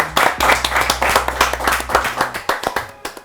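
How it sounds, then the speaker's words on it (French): A small group clapping at close range, a lively rhythm of sharp hand claps that keeps going throughout, with a low hum underneath. "Bravo, on peut applaudir."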